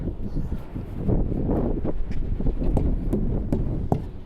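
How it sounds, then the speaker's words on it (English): Warm wind blows outdoors around a parked truck, a steady rushing buffet against the microphone with soft gusts and a few light rustles and clicks. "It's actually a warm wind."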